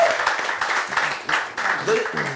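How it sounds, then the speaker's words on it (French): Brief audience clapping in a group discussion, a short scatter of hands over about two seconds, mixed with voices talking on top. "Applaudissements pour grâce."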